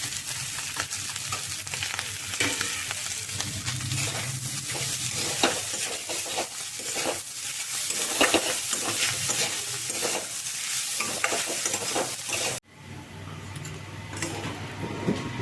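Chopped onion, chilli and garlic fry with garam masala in a pan, a continuous close sizzle layered with frequent stirring scrapes, until the hiss cuts out abruptly near the end and a quieter background hum follows.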